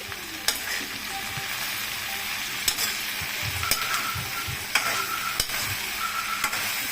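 Okra with turmeric frying in a pan, a steady close sizzle punctuated every second or so by sharp spatula taps and scrapes as it is stirred, without speech.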